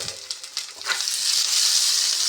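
Mackerel curry masala sautés in a pan, a steady close sizzle with a few soft stirring scrapes early on, the hiss building and holding loud toward the end, no voices.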